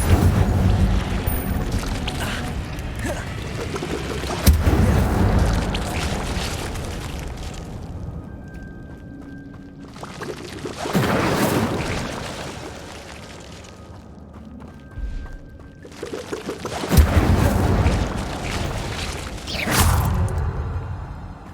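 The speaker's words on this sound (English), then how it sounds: "Incendio." Hogwarts Legacy Incendio fire spells cast in a cave, several roaring whooshing bursts of flame with crackling tails, spaced a few seconds apart over low ambient rumble and faint chimes, no voices.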